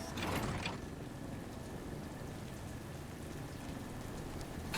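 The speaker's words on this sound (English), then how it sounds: "here comes the fucking rain" Steady rain falls in the video game Death Stranding 2: On The Beach, a dense even hiss of drops on surfaces that follows a brief louder burst at the start and carries on alone without talk.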